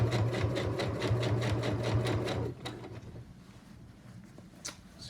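An EverSewn Sparrow 20 sewing machine stitches a Levi's jeans hem, a close, rapid mechanical chatter running for a couple of seconds before it stops, leaving faint handling noises.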